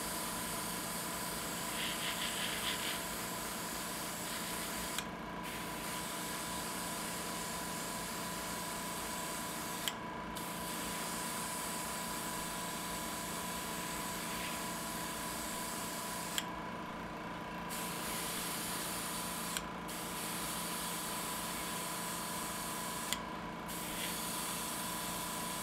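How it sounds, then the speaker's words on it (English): Steady hissing spray from an aerosol paint can onto a model flying saucer, continuous for long stretches with a few brief pauses between passes, close and fairly loud. "So let's go ahead and spray this."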